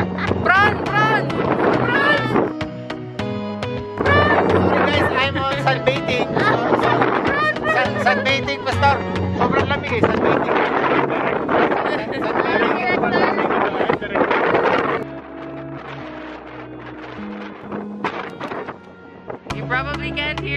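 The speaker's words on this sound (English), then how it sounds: "You probably can't hear me because it's too windy." Loud, constant wind buffeting the microphone in the mountains of Tabuk, with roaring gusts throughout and voices faintly underneath; the rush eases somewhat near the end.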